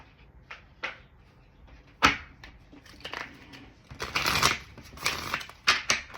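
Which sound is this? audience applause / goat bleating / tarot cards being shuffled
tarot cards being shuffled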